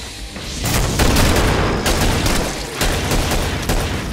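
Continuous rapid gunfire from a big gun in the Killing Floor game's Biohazard map, loud dense bursts with heavy booms running nearly unbroken across the whole stretch.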